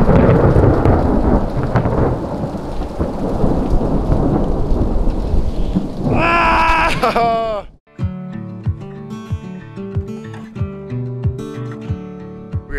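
Heavy rain and hail batter a shelter at night during a mountain bike trip on the Great Divide, with a steady loud roar and a thunder rumble; the roar drops out partway and gives way to quieter patter.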